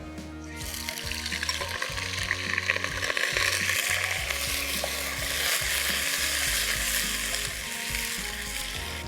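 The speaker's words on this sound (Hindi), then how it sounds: "मीट को अच्छे से गार्लिक के साथ फ्राई कर लें।" Boiled boneless mutton frying with garlic in a karahi, a loud steady sizzle filling the whole stretch with occasional scrapes of a spoon against the pan.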